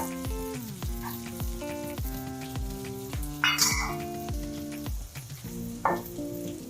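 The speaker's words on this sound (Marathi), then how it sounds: "आता थोडा कांदा पण आहे ह्यात थोडा कांदा पण टाकणार आहे" Chopped onion frying in a pan for restaurant-style veg fried rice gives a steady, close sizzle alongside repeated metallic scraping and stirring strokes, with a louder hissing burst midway.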